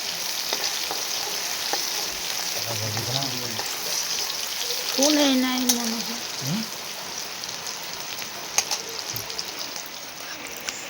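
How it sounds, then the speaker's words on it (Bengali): Chopped onions frying in a pan for egg and potato rice give a steady, close sizzling hiss with occasional scraping from stirring, while a person speaks briefly partway through. "পেঁয়াজ কুচানোটাকে লাল লাল করে নাড়াচাড়া করে ভেজে নিতে হবে"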